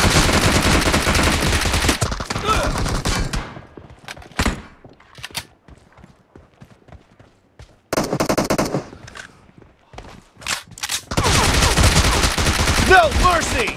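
Bursts of rapid PP-Bizon submachine gun fire in PUBG team deathmatch, loud and dense, with quieter gaps of scattered game noise between the long volleys.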